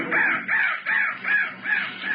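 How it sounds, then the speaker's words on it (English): A crow cawing loudly and close by, five harsh calls in an even rhythm, each about half a second apart, heard alone with no voices. "That crow was the bird of death"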